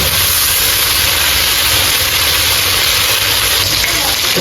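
Afghani chicken pieces fry golden in hot oil with a loud, continuous sizzling hiss that stays close and steady throughout.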